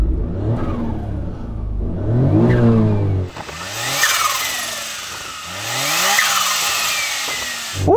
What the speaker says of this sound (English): Let's have a listen to your exciting micro coupe.